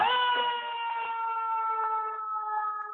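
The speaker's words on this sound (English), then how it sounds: "It's the ambulance." An ambulance siren passes close by, a loud steady wailing tone that fades slightly over a few seconds, heard alone with no talk over it.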